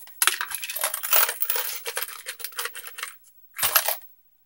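A pile of 2-inch carriage bolts handled and dropped together, giving clustered metallic clinks and rattles for about three seconds, then a brief pause and one more short jangle.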